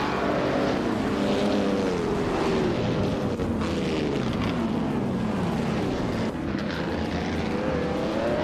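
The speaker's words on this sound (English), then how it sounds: "the race is underway at Horsma Raceway, and Amy is starting on pole with that classic 1957 Curtis Craft 500B in the iconic classic IndyCar class" A 1957 Curtis Craft 500B classic IndyCar races at Horsma Raceway in a video game, engine droning loud and steady with gliding pitch as it accelerates among other racing cars, no talk.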